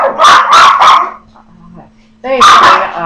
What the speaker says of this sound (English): I brought my little dogs today